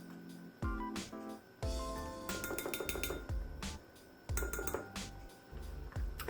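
A spoon stirs chaffle batter for a Wonder Bread chaffle in a bowl, producing close, bright clinks and rattles in repeated bursts with brief pauses between them, and no voices.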